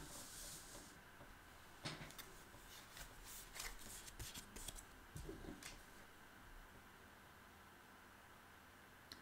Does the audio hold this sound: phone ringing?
no